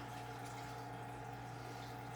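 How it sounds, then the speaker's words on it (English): Water circulating in a baptismal font and running over its edges, a steady, continuous gentle flow with a constant pump-like hum beneath it, unbroken throughout. "the water just runs over the edges and flows down"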